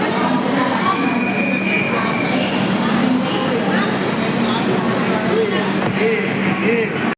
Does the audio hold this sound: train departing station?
yes